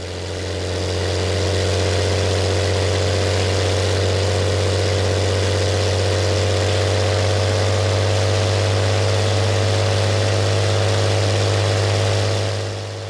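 A single Allison V-1710 aircraft engine runs on a dynamometer at 2600 RPM and 37 inches of manifold pressure, a loud, steady, close drone that holds level throughout with no talk.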